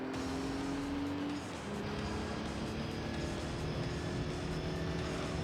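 Pagani Zonda engine in Gran Turismo 3 drones steadily with a constant, fairly loud tone, its pitch holding level apart from a short dip partway through, with no talk over it.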